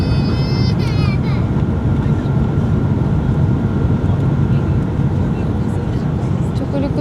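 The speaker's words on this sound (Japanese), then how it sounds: "もうすぐ着陸です。" A passenger aircraft comes in to land, heard from inside the cabin as a loud, constant roar of engine and airflow that holds steady throughout the few seconds.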